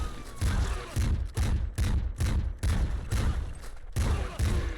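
Shotgun-type weapon in the video game Nuclear Throne firing about eight loud, punchy blasts in a steady rhythm, each with a short thudding tail and close-up presence.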